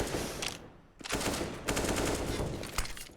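Rifle fire in a Counter-Strike: Global Offensive match on Dust2, loud rapid bursts of automatic shots with a short pause between them, close and harsh.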